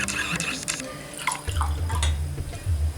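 Cold water poured into a small copper cezve coffee pot, a trickling, splashing stream that becomes a steady low gurgle as it fills, close by, with a voice talking over it.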